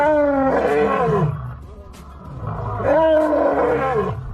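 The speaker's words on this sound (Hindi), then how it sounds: "एक असली शेर की आवाज रियल लाइफ में कुछ ऐसी होती है।" A real lion roars twice, each a deep, powerful bellow swelling and fading, the second following after a short quieter gap; loud and close.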